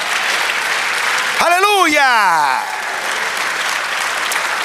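A church congregation claps in dense, continuous applause through the whole stretch, while a voice shouts out loudly over it partway through.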